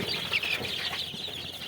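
Tiger-breed chickens and chicks cluck and chirp in a steady, busy chorus at moderate volume, with a brief rustle of wings and no voices.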